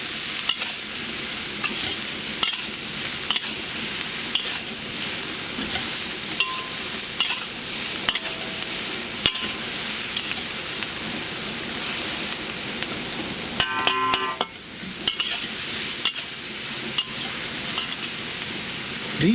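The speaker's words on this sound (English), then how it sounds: "That's the key to stir frying." Food is stir-fried in a hot wok on an outdoor back deck, giving a loud, continuous sizzle and hiss with scraping stirs throughout and a brief metallic clatter partway through.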